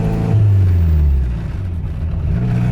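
A DSM/Evo car with a five-speed manual roars loudly and close up, revving hard before the engine note drops as it shifts into second gear, then picks back up.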